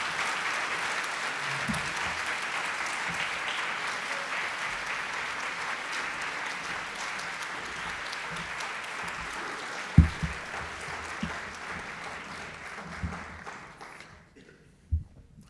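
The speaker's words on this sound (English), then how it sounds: "You can give him more applause" An audience at a Journalism Day 2023 event gives a long, even round of applause at moderate distance, with scattered louder claps and a few cheers toward the end before it fades.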